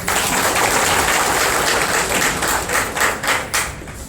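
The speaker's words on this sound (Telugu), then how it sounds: "ఒకసారి చప్పట్లు కొట్టండి." A crowd of attendees claps together at a local sanitation workers' event, a dense, steady patter of applause that stays loud throughout and thins slightly toward the end.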